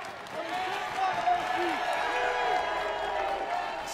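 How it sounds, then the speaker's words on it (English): A wrestling crowd applauds and cheers at a match featuring Jushin Liger in his hometown, a steady mid-level roar with scattered claps under continuous announcer commentary. "Some of the crowd coming back to him."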